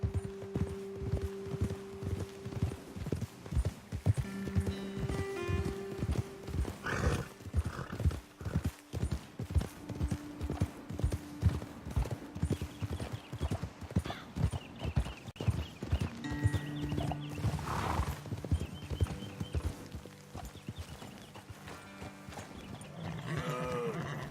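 Horses trot along a trail in Red Dead Redemption 2, their hooves clip-clopping in a steady, close rhythm with an occasional whinny and snort over quiet game ambience.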